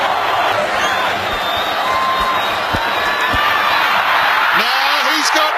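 Rugby stadium crowd cheering after a Highlanders try, a loud sustained roar from a large crowd with a commentator speaking over it.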